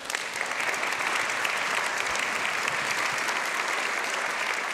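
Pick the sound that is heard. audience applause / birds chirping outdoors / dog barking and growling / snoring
audience applause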